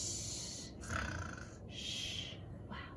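A storyteller's voice imitates a sleeping giant snoring, giving about three drawn-out breathy snores with airy hissing exhales between them, close and fairly loud with no other talk.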